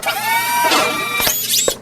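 A Delta 18-900L drill press is having its speed changed, heard up close as a loud mechanical whine that shifts in pitch, with a few brief clunks and squeals as the setting moves.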